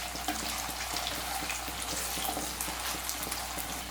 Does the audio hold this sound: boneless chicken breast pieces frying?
yes